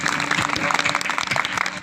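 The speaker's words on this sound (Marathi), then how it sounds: "तेवढ्या ताकदीने खणखणीत टाळी वाजवा सगळ्यांनी" Audience clapping at a Marathi kirtan, a dense, continuous patter of many hands filling the space, steady and fairly loud without pause.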